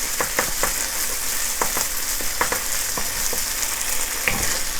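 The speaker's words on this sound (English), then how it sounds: "Chili bean paste. Give it a little bit of a toast." Chili bean paste toasting in a hot wok for a Sichuan lotus root and pork stir fry, a steady close sizzle and fry with scattered sharp crackles and pops throughout, no voices.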